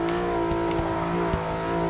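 Nissan GT-R R35 drift build in Forza 6, its engine holding a steady, loud drone with a faint rising edge as it slides through a corner, no voices over it.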